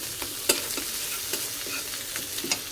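Spice paste frying in oil in a pan while being stirred, a soft steady sizzle with occasional scraping strokes and a few sharper clinks of the spoon, close and quiet.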